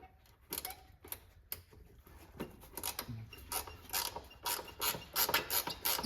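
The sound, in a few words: ratcheting wrench turning a bolt on an MGB rear axle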